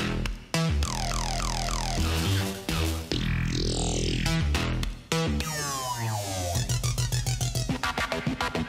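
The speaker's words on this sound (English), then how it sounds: "So what I did is I have a bunch of sounds from Massive, only one from Serum, ironically, and then I created my own melody." Electro hip hop synth melody built from Massive and Serum synthesizer sounds, a busy layered line of stuttering chopped notes, sweeping swells and sliding pitches over deep bass, loud and solo with no voices.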